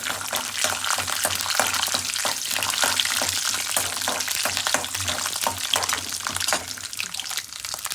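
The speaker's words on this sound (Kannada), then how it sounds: "ಎಣ್ಣೆ ಬಿಸಿ ಆದಮೇಲೆ ಕಡಲೆಬೇಳೆನ ಹಾಕಿ ಫ್ರೈ ಮಾಡ್ಕೊಳ್ಳಿ" Steady, dense sizzling of chana dal and mustard seeds frying in hot oil, crackling continuously throughout without any talking.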